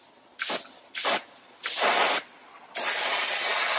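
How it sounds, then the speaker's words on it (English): A spray gun mists thin plastic primer in a series of hissing bursts: two short ones, then a longer burst, then a sustained spray, all close and fairly loud with no speech. "With plastic primer, you want a very fine spray, because it's really thin."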